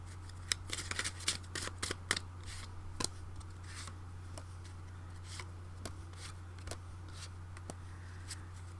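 Oracle cards being shuffled by hand give quiet, irregular papery riffles and soft slaps, with brief bursts early on and sparse taps later over a low steady hum.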